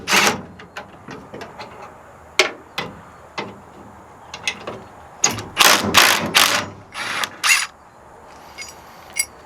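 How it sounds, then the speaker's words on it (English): Ratchet wrench working rusty bolts off a tailgate hinge on a 1974 Ford truck, heard as clicking bursts and sharp metallic clanks, close up and irregular, with louder clattering strokes in the middle. "I'm going to go ahead start off by removing these bolts."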